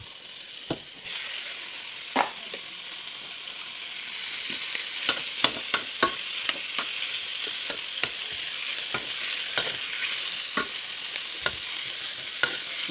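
Pork frying in a little oil for menudo crackles and sizzles steadily up close, with a string of sharp scraping stirs and pops scattered through it and no talking.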